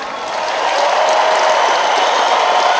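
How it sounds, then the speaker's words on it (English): Crowd applause in tribute to boxer Ricky Hatton, a dense wash of many hands clapping that swells within the first second and holds steady and loud throughout. "I want you to clap for Ricky and all that he achieved and all that he stood for"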